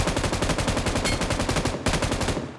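Rapid gunfire in the battle game PUBG, with dense bursts of close, loud shots that rattle almost continuously, pause briefly, then resume.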